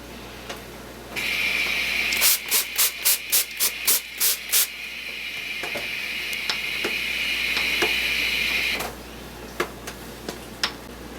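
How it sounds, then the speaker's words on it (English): A spritzer bottle sprays in a series of about eight quick bursty hisses over steady hissing steam from boiling beer wort while brewing a Christmas ale, followed by a long continuous spray and a few more short spritzes near the end. "But I found the spritzer bottle works a lot better."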